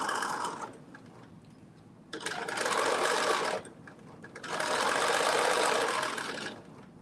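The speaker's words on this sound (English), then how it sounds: "So we are stitching these, the front to the back bodice at 5/8." Sewing machine running a straight stitch to join a garment bodice front to back at a 5/8 seam allowance, two steady bursts of motor whir with a brief pause between, close and loud, no talking.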